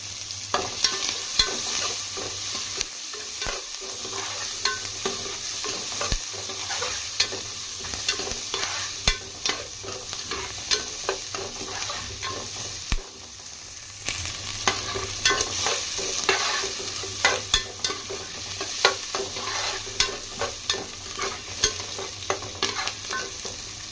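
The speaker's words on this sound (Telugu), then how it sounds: "ఆనియన్ ఈ విధంగా ఫ్రై అయితే సరిపోద్ది." Two large, thinly sliced onions fry and sizzle in a pan for an okra and egg curry, with a steady crackle broken by repeated scraping stirs of a spoon. No voices are heard.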